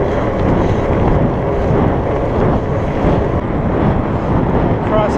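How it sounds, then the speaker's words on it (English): A strong cross headwind buffets the microphone on a Surly Moonlander fat bike ride to work, a loud, constant low roar of wind noise that persists for the whole stretch. "Cross headwind now is affecting us"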